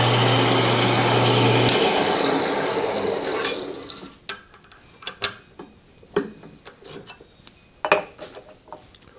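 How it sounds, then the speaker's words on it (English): A power drill bores a hole for a guided tap wrench, running loud and steady for about two seconds before stopping, followed by scattered clicks and knocks of tool handling. "Of course, I've already drilled the hole, but you drill a hole."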